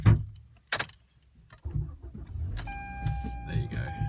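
A Toyota Camry XV70 sedan from 2018-19 starting in snow at -2 degrees: a few clicks and a short crank, then the engine catches and settles into a steady idle with a faint chime over it.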